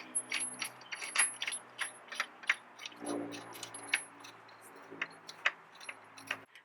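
Metal brake kit bracket and bolt handled during a big brake kit install, giving a string of light, close clinks, taps and small jangling knocks at an irregular pace, with no talking.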